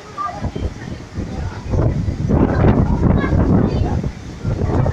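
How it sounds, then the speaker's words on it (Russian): Strong seaside wind gusting at a beach hotel in Sousse, Tunisia, roaring broadband across the microphone and swelling louder midway, with people talking beneath it. "Прям ветер сдувает."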